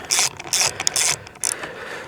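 A ratchet fitted with an undersized Torx bit turns a bolt on a Stihl FS 110R trimmer, giving close, loud bursts of rapid clicking in several short runs with brief pauses between them.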